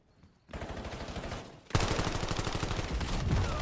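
Automatic weapon fire in the video game Call of Duty Black Ops 7, a loud burst of rapid shots that briefly drops out, then resumes as sustained, dense gunfire continuing to the end.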